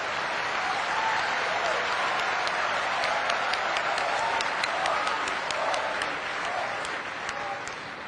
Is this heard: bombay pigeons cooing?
no